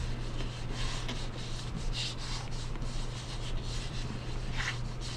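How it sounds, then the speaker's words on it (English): Paper is rubbed by hand onto an inked printing block, giving soft, close scratchy strokes that repeat in an uneven rhythm over a faint steady hum. "I'm going to rub, rub, rub, again, not moving it."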